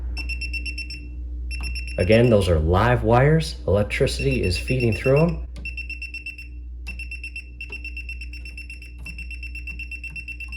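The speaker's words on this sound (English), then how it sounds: "as I get close to any of the wires and touch them, the tool should blink and beep" A voltage tester beeps rapidly and steadily, high-pitched, near live wires at a household breaker panel, continuing under a voice that talks in the middle.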